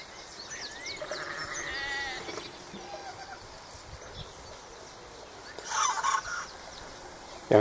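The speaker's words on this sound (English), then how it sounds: "Young cockerels have started crowing." Young cockerels crow in a rural outdoor setting, with a few faint, strained calls in the distance against steady ambient background noise.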